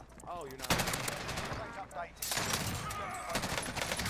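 A gun fires repeatedly in Call of Duty Warzone, fast crackling shots in close bursts filling most of the stretch, with a voice talking under and between the gunfire.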